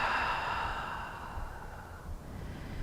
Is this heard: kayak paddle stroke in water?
no